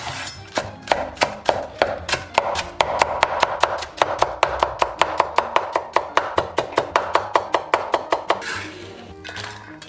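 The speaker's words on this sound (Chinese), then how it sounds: "先给葱打十字刀" Rapid, steady knife chopping of green onions on a cutting board, crisp evenly spaced strokes close up and loud, with no talking.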